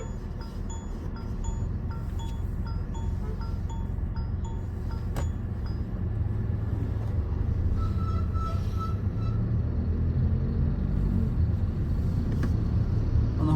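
A Mahindra 3XO car creeps forward slowly along a narrow residential pocket road, giving a steady low engine and road rumble from inside the cabin, with a faint rhythmic ticking in the first few seconds.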